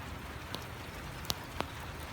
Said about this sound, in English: Here comes the heavy rain.